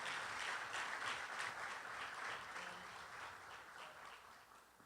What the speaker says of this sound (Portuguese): Aplauda o Senhor aí no seu lugar